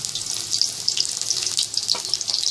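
Prawn pakora frying in oil over a slow flame, giving a steady, close hiss of bubbling sizzle with faint crackles throughout, no voices.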